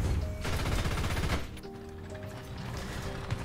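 Loud, close automatic gunfire from a German tank in a war video game, heard as a dense rattling burst for over a second before it stops and leaves a lower mechanical hum with faint tones.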